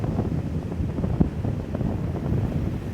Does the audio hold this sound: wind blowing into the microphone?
yes